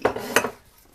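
A big sturdy fork clinks twice against a bowl while mixing bread dough ingredients such as oil and yeast, giving short, close metallic taps.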